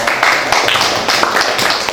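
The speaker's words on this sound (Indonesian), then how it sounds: "beri tepuk tangan untuk kelompok" Classroom applause for a student group after their presentation on carburetor components, a brief burst of mixed clapping that stays fairly loud and even throughout.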